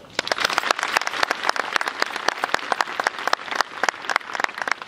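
Sustained applause from a crowd at a school flag ceremony, dense and steady hand claps filling the whole span at a fairly loud level.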